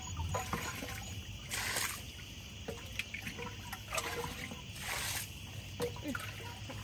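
Water leaking from a pipe under a house, heard as a quiet ongoing trickle and dribble with occasional splashy bursts, with faint voices in the background.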